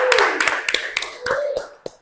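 Scattered, uneven handclaps from a small audience at a podcast event venue in Serang, a handful of sharp claps spread across a couple of seconds with a voice faintly underneath.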